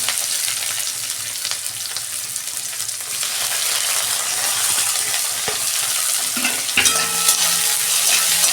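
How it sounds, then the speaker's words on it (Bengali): Onions sizzle in hot oil in a wok over a tempering of dried red chili and whole spices, a steady, dense frying hiss with occasional stirring scrapes, close and continuous throughout. "ফোড়নটা ভাজা হয়ে গেছে, পেঁয়াজ দিচ্ছি।"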